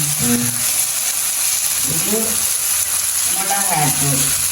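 Leftover idli frying in a pan with pepper and turmeric powder, a steady close sizzle running throughout, with voices talking over it in places.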